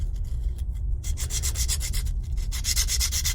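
3D printed part being rubbed back and forth on a flat grit sanding surface, close scratchy strokes in a quick repeating rhythm, loud and alone.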